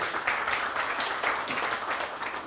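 An audience at a Trabzon artists' night show applauds a performer, a brief, fairly distant patter of steady clapping.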